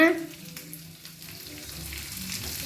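Capsicum, beans, carrot and onion fry in a pan with a steady, moderately loud sizzle that holds for a few seconds, a brief louder burst at the start, no voices.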